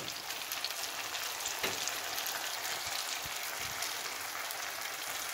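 A pot of tomato pasta sauce sizzles and bubbles steadily as butter goes in, a soft continuous frying hiss broken by faint pops and light stirring clicks.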